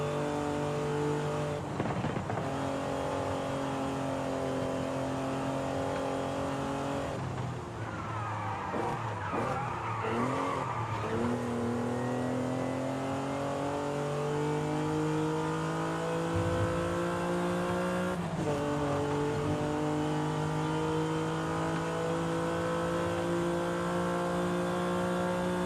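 A Honda NSX with a 6-speed gearbox in the Forza Horizon 5 racing game revs and drives steadily, its engine tone rising and falling through gear changes, with a burst of tire scrubbing midway, loud and continuous.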